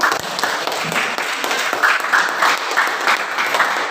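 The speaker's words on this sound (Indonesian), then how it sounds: "Tepuk Ustaz dulu." A crowd of schoolchildren claps steadily for several seconds for a religious teacher, a dense, sustained burst of applause with no voices on top.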